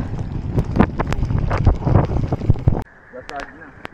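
Strong wind gusting against the microphone during a sudden downpour on a bike ride from Baguio to Sagada, loud and buffeting, dropping abruptly to a quieter rushing background near the end.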